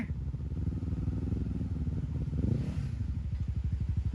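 Motorcycle engine revving hard under heavy throttle on a final uphill climb, on a rainy-season adventure ride with CB500, CRF250/300 and Versys-X 300 bikes; a close, loud, pulsing engine note that rises and strains toward the end.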